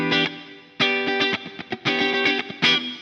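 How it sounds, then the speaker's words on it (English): Electric guitar played through a Joyo Jam Buddy amp sim set to full bass, mids and treble with reverb on, bright distorted chords struck in short rhythmic bursts with ringing tails. "it's actually quite a nice sounding amp sim. The reverb is on as well at the moment."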